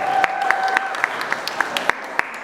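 An audience claps for Zuzia, a young dancer performing a surprise for newlyweds at a wedding reception. The claps are steady and rhythmic, falling at even intervals over a faint sustained tone.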